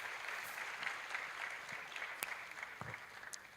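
A round of applause from a seminar audience in a university hall, sustained clapping with a few louder individual claps near the end.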